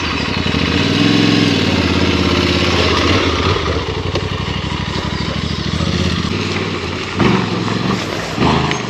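An Aprilia Tuareg 660 motorcycle engine revving hard at full throttle on a slippery surface, a loud, close, sustained roar with rapid pulsing that dips and surges, strongest near the start and again toward the end.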